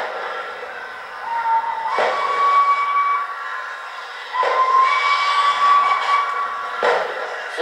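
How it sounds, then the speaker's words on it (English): LNER 4-6-2 steam locomotive Flying Scotsman, No. 60103, sounds its whistle on the Mid-Hants line at Alton: two loud, sustained blasts with hissing steam around them and no talking. "Flying Scotsman crossed the new bridge that has been built in the centre of Alton"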